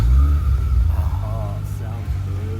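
Mazda RX-7 FC rotary engine rumbling and revving close by, a deep throaty drone with rises in pitch while people talk over it.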